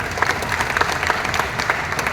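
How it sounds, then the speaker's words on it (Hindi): Audience applause at a yoga class gathering, a steady, full burst of many hands clapping close by, with individual claps standing out now and then and no talk over it. "एक बार आप लोग संवेद स्वर में यहां से वहां तक तालियों की गूंज हो जाए आपकी"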